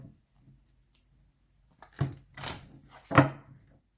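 Tarot cards are shuffled in a few quick, clumsy bursts: crisp papery riffles and slaps that come close and loud after a quiet start.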